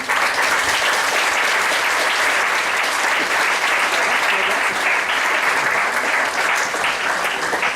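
Sustained audience applause in a conference hall as speakers are invited onto the stage, a dense, loud, even wash of many hands clapping throughout with no break.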